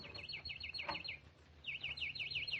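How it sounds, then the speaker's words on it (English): Many birds chirping outside as a radio drama sound effect: quick, repeated tweeting calls in two close bursts over a faint, steady background. "I never saw so many birds."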